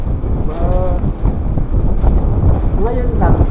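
Strong, steady wind buffets the microphone on a windy mountain top in Buguias, Benguet, a continuous low roar running throughout while people talk over it.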